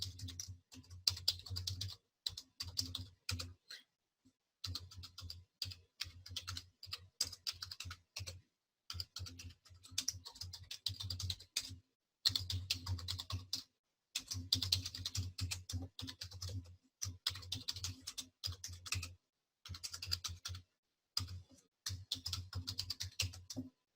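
Rapid typing on a computer keyboard, keys clattering in steady bursts with short pauses throughout, close and clear with no talk.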